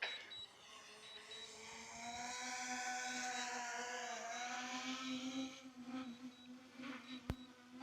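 Small DJI Mini-series drone landing on a landing pad outdoors: propellers whine steadily, close and faint, with the pitch shifting as it settles, and a sharp knock near the end.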